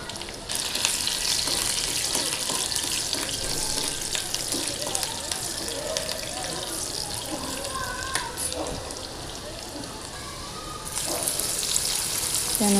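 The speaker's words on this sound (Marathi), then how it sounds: "लसूण छान गोल्डन ब्राऊन होऊ द्या।" Garlic and cumin seeds sizzle in hot oil in a pan, a continuous loud crackling fry with occasional sharper spits, rising again near the end.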